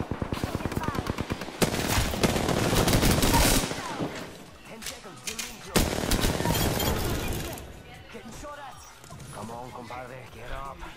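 Rapid automatic gunfire in the video game Apex Legends, loud sustained bursts of machine-gun fire broken by short gaps, with a player talking over and between the shots.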